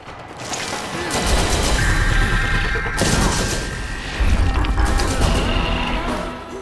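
A turret in the video game Borderlands fires loud, rapid bursts of gunfire with mechanical clatter and crashing impacts, keeping up dense, sustained volleys over several seconds.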